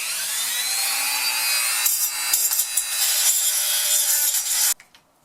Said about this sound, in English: Use the cutting bit to enlarge that slot.